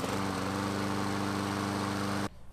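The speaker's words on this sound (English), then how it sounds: "I shut the throttle so it's running" A small engine idles steadily with the throttle shut, a close, even putter with a low rhythmic hum that cuts off abruptly near the end, leaving faint background noise.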